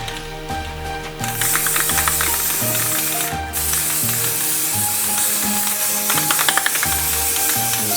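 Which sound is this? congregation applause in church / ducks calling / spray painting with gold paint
spray painting with gold paint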